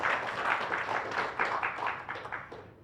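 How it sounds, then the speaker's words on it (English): Applause from the audience at an international wildlife biodiversity conservation symposium session, a continuous patter of many hands clapping at moderate level that eases off slightly toward the end. "please give applause"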